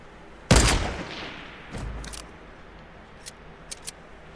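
Gunfire in the video game Fortnite: a loud close burst of shots, then a weaker shot and a few faint, distant pops scattered over the next couple of seconds.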